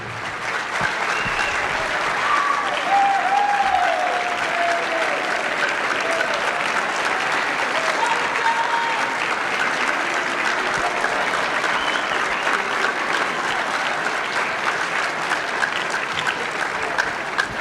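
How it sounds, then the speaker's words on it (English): Sustained audience applause at a school scholarship award assembly, a dense, steady wash of clapping from a large crowd that holds evenly throughout, with faint cheers now and then. "we need a huge round of applause for this group of people in our community"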